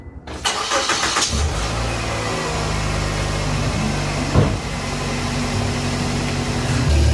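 A car engine cranks and catches, then runs with a steady rumble and a brief rev midway, loud and close, no voices.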